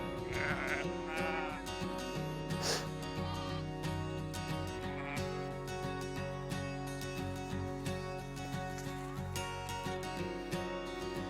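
Sheep bleat repeatedly, some close and loud, others farther off, over a steady low hum with no talking.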